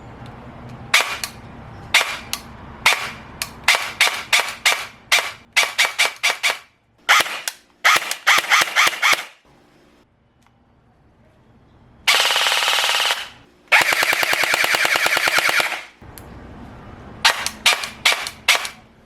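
An airsoft AEG SCAR-L fires rapid bursts of sharp cracks, short semi-auto strings and then two longer full-auto runs, loud and close, with a brief quiet gap in the middle.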